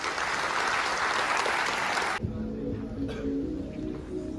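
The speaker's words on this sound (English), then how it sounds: "ladies and gentlemen, can we have a huge round of applause?" A large college audience gives a huge round of applause for the main guest, a loud dense clapping roar that cuts off abruptly partway through, leaving a quieter room hum.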